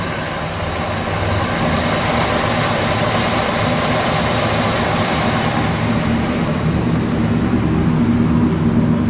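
A 1967 Chevrolet SS427, a turquoise survivor car, idles steadily with a broad, even rumble that holds at one level from start to finish, with no revs and no voices.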